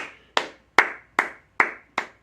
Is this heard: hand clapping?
yes